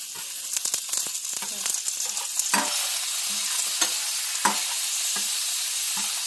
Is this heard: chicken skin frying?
yes